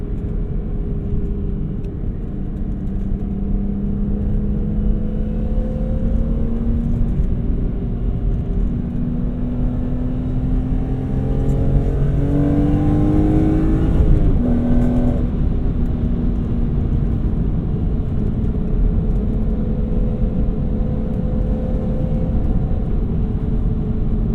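A 2000s BMW E46 M3 with SMG gearbox heard from inside the cabin while driving: engine hums steadily, with a low exhaust rumble rising as it revs up and settling back, no talking.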